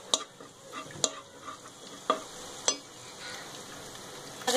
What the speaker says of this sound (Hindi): यहाँ अब मैं इसमें जिंजर गार्लिक पेस्ट ऐड कर देती हूँ। इसे फ्राई कर लेंगे कुछ।